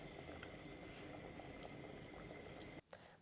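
Red pumpkin shakshuka simmering in a pan gives a steady, even bubbling and sizzling hiss that runs close and continuous, broken by a short drop near the end, with no voices.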